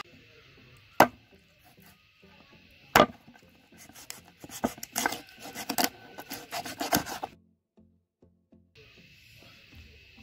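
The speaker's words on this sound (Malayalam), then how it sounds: "ഇവിടെ കാട്ടിയതുപോലെ തന്നെ ചിക്കൻ വിങ്സ് കട്ട് ചെയ്തെടുക്കണം." Raw chicken wings are cut on a board, with two sharp knife chops followed by a cluster of rapid close chopping and slicing knocks, then a few seconds of near silence.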